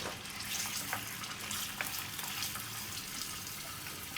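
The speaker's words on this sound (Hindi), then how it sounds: "अब मैं इसके अंदर ये गोश्त शामिल कर देती हूँ। इसे हल्का सा फ्राई करेंगे हम लोग।" Beef pieces frying in about a cup of hot oil give a steady, close sizzle with scattered crackles and pops, and no talking over it.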